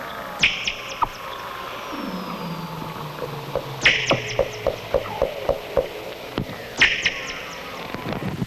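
A Weddell seal's sharp, sonar-like ping pulses repeat at intervals against a faint underwater background, with scattered clicks and a low gliding tone in between.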